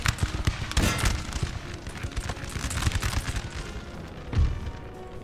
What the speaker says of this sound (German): So, kriegen meine Kanonen gute Schüsse, oder?